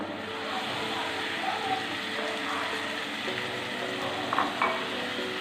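Ground tomato sautés in a pan for Mysore milagu rasam, giving a steady close sizzle with faint stirring scrapes and no talk.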